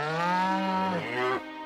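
A single long, low moo from a cartoon cow, close and loud, sliding in pitch before trailing off.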